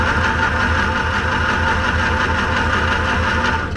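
A beginner sewing machine runs steadily, a close, even mechanical whir with a fast regular stitching pulse throughout, no talk.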